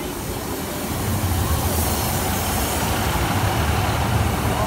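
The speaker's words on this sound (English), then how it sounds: "train approaching from platform 4B" A Class 153 diesel train, unit 153-311, runs past the Lincoln High Street level crossing with a steady, loud low rumble and engine drone that holds from start to finish.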